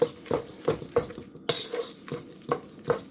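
A whisk or spoon works eggs into cake batter for an orange cake in a bowl, giving rhythmic clinks and wet scraping strokes about three times a second, close and alone.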